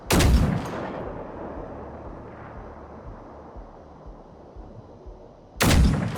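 Heavy gunfire blasts against machines in the video game Generation Zero, with a loud booming shot at the start and another at the end, separated by a low rumbling lull.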